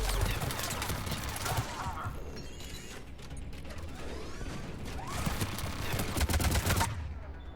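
Gunfire in Mass Effect 3 sounds as bursts of sharp, rapid shots at moderate level, clustered in two volleys over a busy mix of mechanical clicks and game effects.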